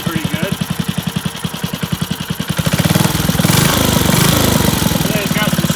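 A flat-head Briggs and Stratton 5 hp small engine chugs close and loud with a steady rapid putter, then revs up briefly before settling back; a voice talks over it.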